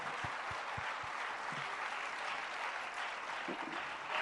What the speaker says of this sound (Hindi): जरा एक दूसरे के लिए तालियां बजा दीजिए।